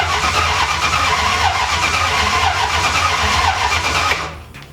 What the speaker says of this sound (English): We're just going to try to bump start it and see what happens.